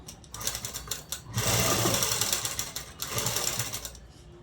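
A sewing machine stitches a blouse seam in loud, rapid bursts, running in one long stretch and a second shorter run with brief pauses between, close and clear without any speech.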